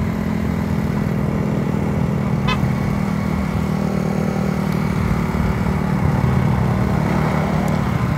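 A Raider FI motorcycle at speed alongside a loaded Mio scooter, a steady loud engine drone with continuous road and wind roar throughout, no clear rev changes.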